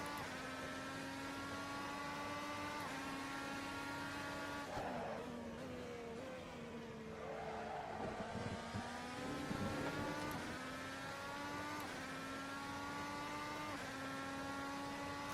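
The Red Bull X 2010 race car in Assetto Corsa screams at high revs around Spielberg, with a sustained whine that dips briefly under braking and downshifts and then climbs again.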